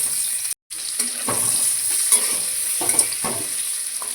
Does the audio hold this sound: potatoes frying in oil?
yes